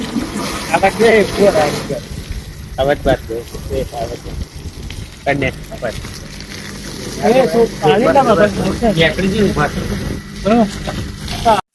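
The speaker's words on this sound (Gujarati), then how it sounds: "ગાડી ધોવાનું ચાલુ છે અમારે" Steady hiss of water spraying during a car wash, with people talking over it nearly throughout.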